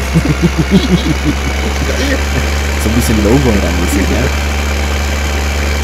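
Tractor engine idling in Farming Simulator 2015, a steady low rumbling drone running throughout beneath continuous talking from players.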